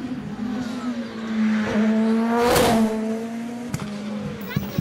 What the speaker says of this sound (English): Turbo dump noises, the wastegate working.